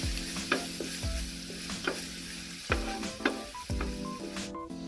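Blended paste of onions, garlic, anchovies and belacan shrimp paste stir-frying in oil, a steady close sizzle broken by several loud scraping stirs of the utensil against the pan.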